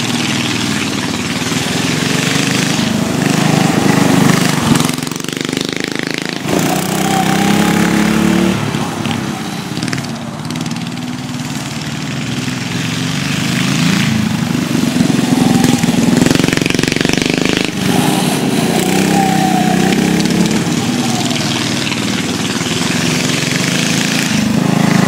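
Mini bike engines race like little dirt bikes, loud buzzing small-engine whines rising and falling continuously as the bikes rev through turns close by.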